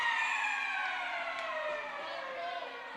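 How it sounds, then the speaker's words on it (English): A goal siren blares at a women's college ice hockey game with Adrian College: a loud, steady wailing tone held for about three seconds that slowly slides lower in pitch, with faint arena noise beneath. "Horn goes off."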